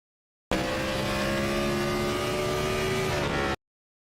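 Onboard a stock car racing at Richmond, a loud close engine roars continuously for about three seconds, its pitch rising and falling as the driver works down through the gears, with harmonic whine and no talking.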